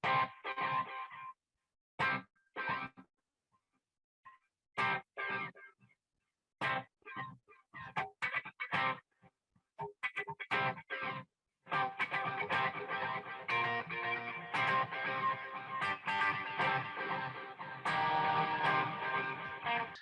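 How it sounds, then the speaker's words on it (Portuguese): Electric guitar run through a Space double delay effect, two delays with one lagging the other, giving short, choppy picked bursts that echo into an almost percussive pattern, then a denser, sustained strummed passage toward the end. "o efeito são 2 delays, um atrasando o outro"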